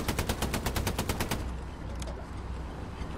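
A tank's coaxial machine gun in Hell Let Loose fires a fast, even burst of about a dozen loud, close shots, then stops, leaving engine rumble and one distant crack.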